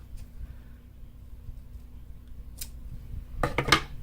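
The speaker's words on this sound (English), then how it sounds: "Now this one I didn't cut, so let me just cut a piece off." Scissors snip a piece of lace trim during a craft session: a faint snip early on, then two crisp cuts close together near the end, near and quiet, no talk.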